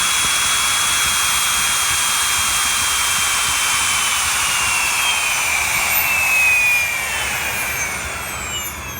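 An Xnova XTS 530 brushless motor runs steadily, a loud, close high-pitched whine with a hissing airy edge that holds its level, its pitch sliding slightly, before easing down near the end.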